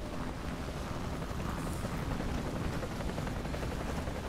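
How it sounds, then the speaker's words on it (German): A helicopter in the shooter game Call of Duty Modern Warfare Remastered makes a steady, dense rotor and engine roar that fills the whole stretch at even loudness, with wind-like rushing and no talk over it. "der Hubschrauber gibt uns Deckung"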